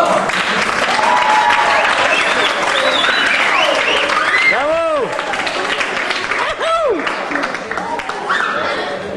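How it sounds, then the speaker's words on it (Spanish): Loud audience applause and cheering at a presentation event, dense clapping with shouts and whistles, including a couple of rising whistle calls midway, sustained and close. "Un fuerte aplauso. ¡Bravo!"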